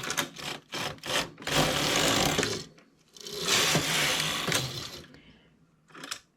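Knitting machine working thick, dry yarn at tension setting 10: quick rattling bursts, then two long grinding carriage passes of a second or more each, followed by a brief final rattle, close and loud, no talk.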